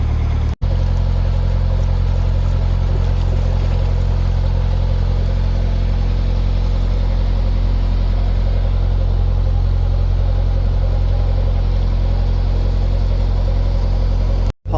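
Narrowboat engine chugging steadily as the boat sets off along the River Nene, a constant low mechanical drone close by with no talk.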